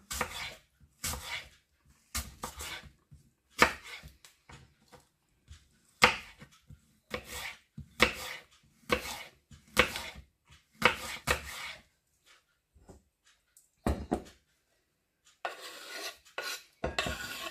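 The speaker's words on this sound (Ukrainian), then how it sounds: "Я беру десь пів і теж нарізаю отак соломкою." A knife slices an apple into thin strips on a cutting board in repeated quick, crisp strokes, close up, with short pauses between bursts of cuts.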